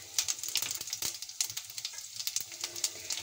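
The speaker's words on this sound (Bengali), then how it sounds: "আমি গরম তেলের মধ্যে দিয়ে দিচ্ছি জিরে ফোড়ন" Cumin seeds sizzle and crackle in hot oil in a wok, a quiet, rapid patter of pops and hisses with no voices.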